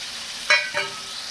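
Peanuts and garlic sautéing in a pan for tomato chutney give a low, steady sizzle, broken by two quick stirring scrapes in close succession.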